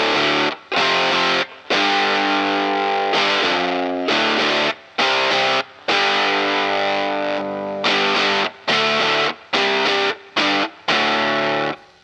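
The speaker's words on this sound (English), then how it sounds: "This is just fuzz, so no filter, no clean bass blend." Bass guitar played through a fuzz pedal with no filter and no clean blend, giving loud, thick distorted notes in short repeated phrases separated by brief gaps.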